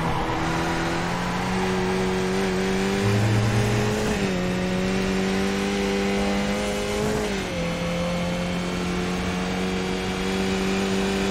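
A Skip Barber race car in a racing game at Oulton Park holds a loud, steady engine drone with rising and falling pitch as it revs through gear changes, continuous and close throughout.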